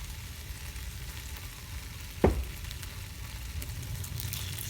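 Sausages frying in a pan for a barbecue-sauce dish give a steady, close sizzle throughout, with one sharp clatter at the midpoint and a slightly rising hiss toward the end.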